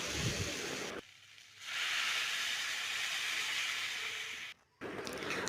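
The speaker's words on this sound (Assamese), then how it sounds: "তাৰপিছত মই গৰম পানী অকণমান দি দিলোঁ। উতল এটা আহিবলৈ দিলোঁ।" Hot water simmering in a pan just after frying, a steady broad hiss with brief quieter gaps, close and moderately loud with no voices.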